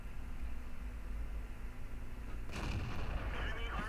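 Tank cannon fires in World of Tanks, a sudden broad blast cutting through a steady low engine rumble and hiss, followed by a ringing, crackling tail.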